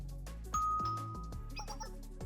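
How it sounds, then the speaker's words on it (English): Doorbell chime in the Blue Archive video game, a bright ringing ding-dong tone over a steady musical game soundtrack, clear and sustained. "Was that the doorbell?"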